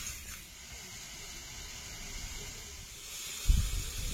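Spice masala frying in a pan for a prawn curry, a steady soft hiss and sizzle that swells louder near the end with a low thump of stirring.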